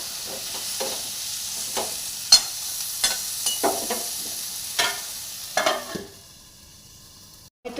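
Tomato frying in a pan for chicken posto, stirred with repeated scraping spoon strokes over a steady close sizzle that drops away near the end.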